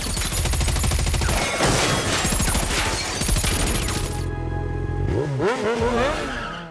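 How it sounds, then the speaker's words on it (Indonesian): Gunfire crackles in a film shootout inside a smoke-filled room: dense, rapid bursts of shots over a loud roaring rumble, then a sudden thinning into swooping, whooshing tones before fading out. "Keira langsung mengeluarkan asap di ruangan tersebut dan baku tembak pun terjadi"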